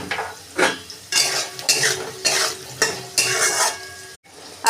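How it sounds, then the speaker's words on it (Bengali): Repeated scraping strokes of a spatula stirring potatoes frying in oil in a pan, salt just added, with rhythmic metallic scrapes over a soft sizzle, close and clear. "আলুটা ভাজা হয়ে এসছে, এবার অল্প একটু নুন দিয়ে আবারও নেড়ে দেব।"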